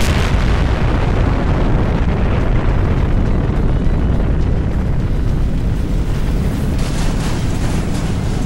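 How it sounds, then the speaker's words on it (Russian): A powerful blast destroys an entire island in the Roblox video game: a loud, sustained, rumbling roar that fills the whole stretch with dense, continuous low-heavy noise, with no talk. "Мощный взрыв уничтожил весь остров."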